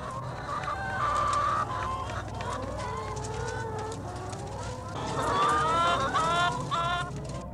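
Battery hens cluck and squawk continuously, a dense, loud flock of overlapping bird calls that swells midway and stays busy to the end.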